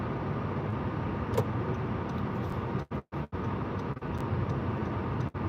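A car rolls along a Southern California road in slow traffic, giving a steady, close broadband road and engine rumble that briefly dips a few times, with no talking.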